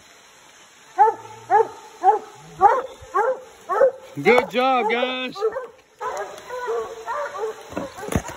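Coon hounds bay at a treed raccoon outdoors in the rain: a series of loud, evenly spaced barks, then drawn-out howling bays and a yip, close by. Someone speaks briefly over the dogs.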